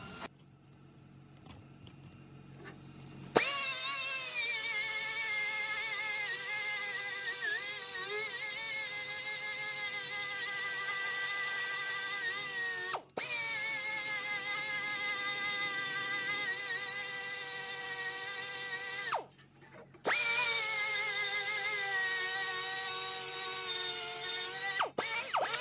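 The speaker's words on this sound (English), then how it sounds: "Now what I'm going to do is grind this down flat on this side, cut off the end" Steel vehicle frame being ground flat and cut with an angle grinder, a loud, sustained high whine with shifting pitch as the disc bites, stopping briefly twice before resuming; no one speaks.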